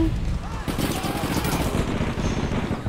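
Rapid gunfire in an online shooter video game, with bursts of shots crackling steadily under a player's excited talk.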